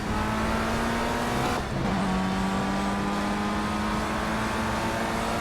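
Race car engine in the Project CARS racing game, FR Euro Trophy at Donington Park, droning steadily and loudly throughout, with a brief dip and gear shift midway before the engine note climbs again under acceleration.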